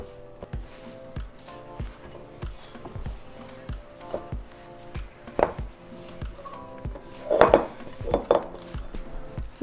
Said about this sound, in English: So now we're just going to mix it all together, kind of knead it until we have a nice paste.